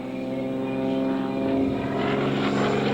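A propeller-driven plane flies a low solo aerobatic routine at an airshow in Avalon, Australia, its engine droning loud and steady with a slowly shifting pitch as it passes.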